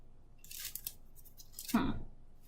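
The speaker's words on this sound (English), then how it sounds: "I should probably cut along the folds just to be safe" Scissors cutting along the folds of a cake-decorating paper template, several quick snips around the middle and a louder, fuller crunching cut near the end, close and fairly quiet with no voice.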